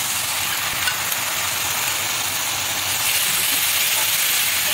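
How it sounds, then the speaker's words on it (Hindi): Ginger-garlic paste frying with golden-brown onions in hot oil, a steady, dense sizzling hiss that holds evenly throughout with no talking. "अब हम इसमें जो हमने अपने अदरक और लहसुन का पेस्ट बनाया हुआ था उसको भी डाल देंगे"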